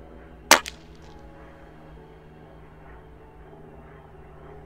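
A single muffled shot from an Umarex airgun fitted with a DonnyFL Sumo suppressor: one short, fairly close crack with a brief tail, followed by quiet background.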